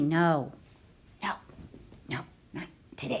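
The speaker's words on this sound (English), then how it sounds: "Sorry, that's my dog." A dog gives a long whining bark followed by several sharp, evenly spaced barks close by in a home, while a person speaks between them.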